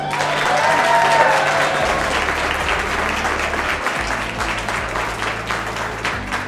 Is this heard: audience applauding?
yes